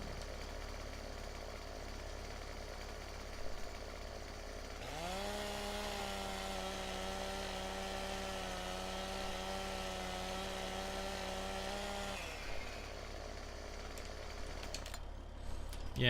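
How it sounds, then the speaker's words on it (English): Chainsaw in Farming Simulator 17 cutting trees, a steady loud engine whine that revs up and holds for about seven seconds before dropping away, with quieter machinery hum before and after. "I may have to actually cut a couple of these trees."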